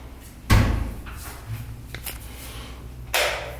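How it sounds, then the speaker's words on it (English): A bathroom door in a Mumbai home swinging shut, with a sharp close-range thud near the start, some softer knocks and rattles, and a second bump toward the end. "if I close this door"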